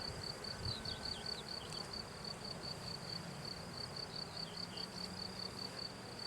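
Honey bees hum in a steady, even drone around an open hive, a dense close buzz that holds unbroken, with a faint high whine running over it.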